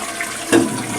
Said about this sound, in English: Let's just flush it and make sure that all works.